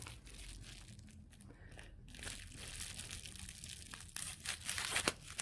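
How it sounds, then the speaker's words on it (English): A package wrapped in bubble wrap being unwrapped, with faint close crinkling and rustling of plastic that grows busier and louder toward the end. "so I am going to unwrap this one way"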